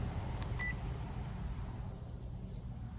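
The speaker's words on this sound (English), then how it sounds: "You'll hear one beep." A single short, clear beep from the power button of a Talaria X3 electric motorbike, heard once over a steady background hiss and low hum.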